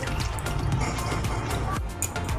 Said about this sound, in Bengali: এবারে আমি সবগুলোই মাছ ভালো করে জল জড়িয়ে জড়িয়ে উঠিয়ে নেব